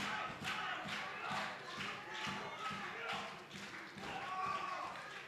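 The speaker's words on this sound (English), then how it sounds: "the crowd trying to get behind Skyler Devins" Wrestling crowd at an independent TIWF tag team title match, a steady roar of cheering and rhythmic shouting with repeated claps and thuds, loud and continuous throughout.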